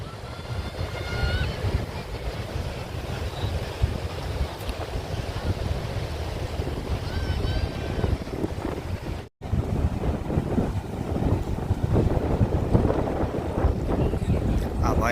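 Steady wind and rolling sea waves on Madhavpur beach, a continuous broadband rush with gusts buffeting the microphone, the surf loud and close throughout the clip.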